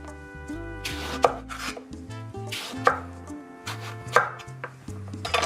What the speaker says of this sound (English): I just sort of peel it halfway and then make the nice slices